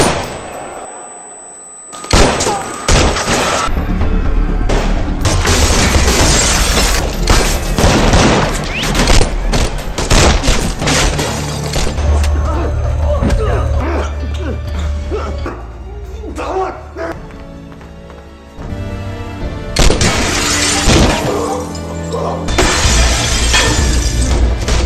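Chaotic gunfire shootout between police and kidnappers in an action film, with loud bursts of shots, shattering glass and booming impacts layered over dense film score and voices, pausing briefly before erupting again.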